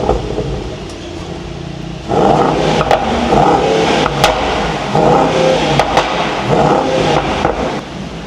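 A Mercedes-AMG GT 63 S engine fires up with a sudden loud rumble, then idles and revs in short bursts close by, with a few sharp clicks and rustling around it.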